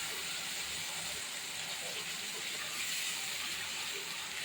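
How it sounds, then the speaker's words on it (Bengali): Chopped onion fries with ginger-garlic paste in a pan, giving a steady, fairly quiet sizzling hiss with no breaks. "এর মধ্যে আমি বেটে রাখা আদা রসুন দিয়ে দিলাম।"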